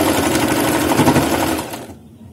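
Sewing machine stitching ribbon onto a baby frock, a loud, close, continuous motor whir that runs steadily then stops abruptly near the end.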